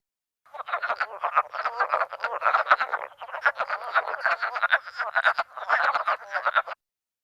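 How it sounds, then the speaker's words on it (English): North American wood frogs call in a dense, continuous chorus of rapid clucking, duck-like croaks. The calls are fairly close and moderately loud, and nobody speaks. "the sound that the wood frog makes. And to me, I think it sounds like a constipated duck"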